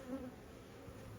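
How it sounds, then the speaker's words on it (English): Honey bees buzz around an open hive during a first hive inspection, a soft, steady swarm hum close by that carries through a brief moment with no speech. "There are quite a few bees buzzing around me right now"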